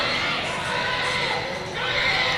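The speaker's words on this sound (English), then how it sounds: "You can hear the fan club behind us, and they're cheering them on." A rodeo crowd cheering during a team penning event at Cowtown, Fort Worth, Texas. Shouts and whoops rise in a steady wash, fairly loud, with a few raised voices mixed in.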